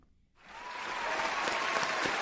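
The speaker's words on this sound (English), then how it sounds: "Let you give him one more round of applause." Applause for Toure Muhammad at a live WVON 1690AM radio broadcast in Chicago, rising from near silence to a sustained round of clapping from a crowd.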